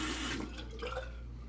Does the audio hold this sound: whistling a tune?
no